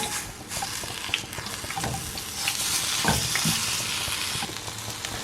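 Prepped vegetables for a fried green plantain ham and cheese sandwich sizzle steadily in a pan nearby, with intermittent scraping and clattering as they are moved around.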